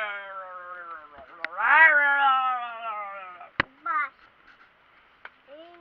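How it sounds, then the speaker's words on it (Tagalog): A cat meows in drawn-out, wavering calls close by, one long loud meow followed by shorter ones, with a few sharp knocks in between and people talking quietly around it. "Pusa ni oh."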